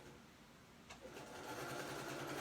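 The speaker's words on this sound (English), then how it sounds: "I'm going to sew 1/4 inch here" A home sewing machine runs steadily through a scant quarter-inch seam while making a fabric snap bag, its motor whir starting after a brief click and holding an even, close hum to the end.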